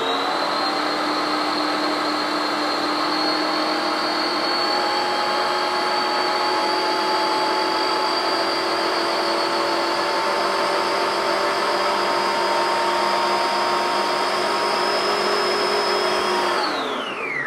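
A Britânia BBP 515 Turbo 500W planetary stand mixer beats egg yolks at full speed from the start, a loud steady motor whine with a constant high tone, running alone for about seventeen seconds before spinning down at the end.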